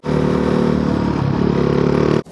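A motorcycle on a touring ride across Sardinia roars loudly and close, its engine droning steadily and rising slightly before cutting off sharply.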